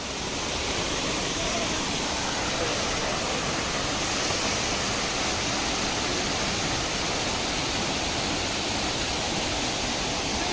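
Rani Jharna waterfall roars in a steady, dense rush of falling water heard up close, loud and unbroken throughout, with faint voices beneath the noise.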